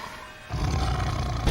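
A tiger's deep roar swells up after a quiet start and holds loud and rumbling, close and forceful.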